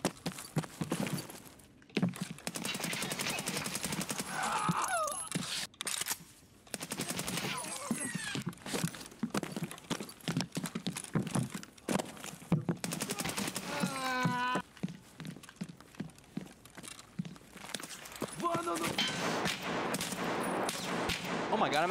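Bursts of gunfire in Escape from Tarkov crackle almost continuously, with rapid cracking shots over several long stretches and a few brief gaps, while someone talks over them.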